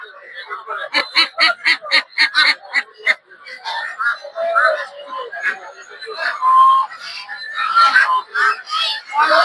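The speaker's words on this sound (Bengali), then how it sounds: "দেখতে পাচ্ছেন বিভিন্ন ধরনের দেশি হাঁস।" Domestic ducks at the Putia poultry market in Narsingdi quack loudly in harsh, rapid bursts, several birds overlapping in a busy, close chorus.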